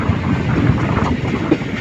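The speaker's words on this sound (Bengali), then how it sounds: "ট্রেন মোটামুটি ধীর গতিতেই চলছে, সেরকম স্পিড নেই।" A passenger train on the New Coochbehar–Bamanhat line rolls at moderate speed, giving a continuous loud rumble of wheels on rails heard from inside a coach, with faint rhythmic clacks.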